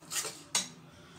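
A spoon scrapes through hot dry-fruit magas mixture in a pan off the stove. Two quick, close metallic strokes sound in the quiet, and no one is talking.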